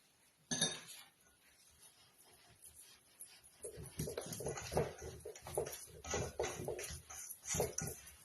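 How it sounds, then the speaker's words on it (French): Lemon cake batter is stirred in a bowl after baking powder goes in, giving faint, rhythmic scraping and clinking of a utensil against the bowl, preceded by a single sharper knock. "vous remuez bien pour que la levure aille dans toute la pâte"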